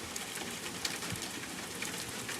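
Rain falling on a mountain, a steady dense hiss of drops with no breaks, even and close, with no voices.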